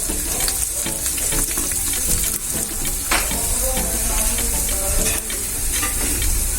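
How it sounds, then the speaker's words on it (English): Garlic frying in hot oil with crackling mustard seeds for an aloe vera pickle tempering: a loud, dense, continuous sizzle and spatter that stays steady throughout, close up with no talking. "Now we will put garlic. Let the garlic go little brown."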